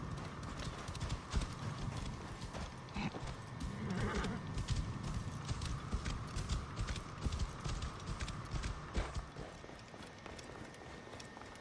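A horse gallops in Assassin's Creed Origins, rapid close hoofbeats pounding in a continuous rhythm over a low rumbling background, with a brief snort partway through.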